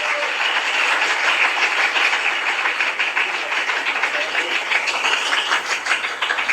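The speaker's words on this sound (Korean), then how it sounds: "큰 박수 부탁드립니다" An audience claps together in applause at a youth policy leaders' session, a dense, steady patter of many hands sustained evenly through the whole stretch with no voices over it.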